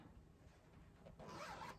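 A zipper on a Deadpool cosplay mask is drawn close up in one quick, raspy pull that grows louder near the end, with no voices.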